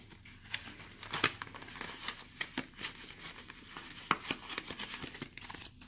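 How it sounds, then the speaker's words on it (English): Paper cash is slipped into a paper envelope, heard as close, soft crinkling and rustling with a few sharper crackles, scattered unevenly and with no voice. "I'm going to go ahead and put this in this envelope"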